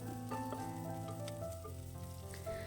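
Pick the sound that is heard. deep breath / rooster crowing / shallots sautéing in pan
shallots sautéing in pan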